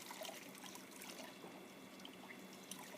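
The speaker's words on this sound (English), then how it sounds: "remove your fleece from the water, let it drain." Water trickles and dribbles steadily from a wet wool fleece lifted out of its scouring bath, a faint continuous drip-and-trickle with no voices.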